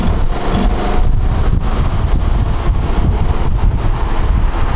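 Strong wind roar buffets the microphone while riding a Honda Forza 750 scooter: a dense, continuous rumble and whoosh that stays loud and unbroken throughout, with no voices.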